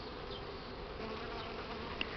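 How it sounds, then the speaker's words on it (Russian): A swarm of young Buckfast honey bees, settled on catmint after a thunderstorm, buzzes in a steady, even drone close by, with no voices. "Короче, пчел много молодых."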